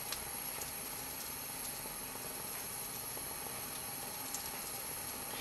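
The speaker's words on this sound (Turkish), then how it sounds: "Çorbamızı kaynamaya bırakıyoruz" Creamy mushroom soup simmers in a covered pot, giving a steady, soft bubbling hiss that stays even and fairly quiet throughout, with no voices.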